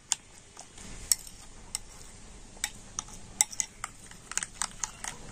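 Egg being mixed with finely chopped tomato and coriander in a bowl: a run of light, scattered clinks and taps of a utensil against the bowl, close and fairly quiet, with no talking.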